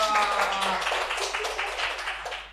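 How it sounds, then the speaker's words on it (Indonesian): Sixth-grade classmates clap their hands in a classroom, a burst of fairly loud, dense clapping right at the start that gradually thins and fades over a couple of seconds, with faint voices underneath. "Wah, tepuk tangan teman-teman."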